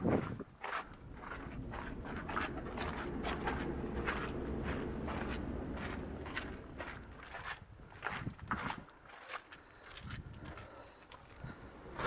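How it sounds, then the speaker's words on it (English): Footsteps echo inside a sea cave on the coast near Lagos, Portugal, a steady run of crunching, scuffing steps with ringing reverberation over a low, rushing background of water. "I know our footsteps are really echoing in here"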